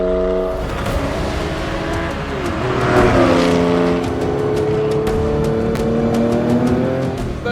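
A Theon Design Porsche 911 coupe built on a 964 accelerates hard through the gears, its engine note climbing loud and close, with shift breaks and a rising howl, no voices.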